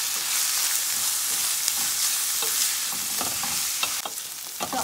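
Peas being mixed and cooked in a pot for a king fish stew, with a loud, continuous sizzle close by and a spoon scraping and stirring through them in uneven strokes.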